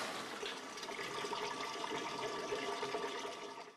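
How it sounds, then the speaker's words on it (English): A dishwasher's pump switches from circulation to drain, giving a gurgling, rushing flow of water that runs steadily at moderate level for a few seconds. "This is the sound of the pump switching from circulation to drain."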